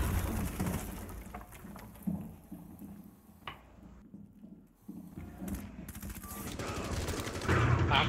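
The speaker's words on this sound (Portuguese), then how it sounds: "vim metralhando o sled lá de cima até aqui embaixo" Machine gun fire in the video game Rainbow Six Siege, rapid bursts of shots crackling in stretches near the start and again more densely toward the end, with quieter gaps in between.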